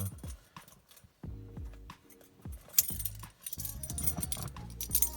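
Car keys on an illuminated key ring for a 1996 Nissan Maxima GLE jangle and clink in several short bursts, close up, with brief pauses between shakes.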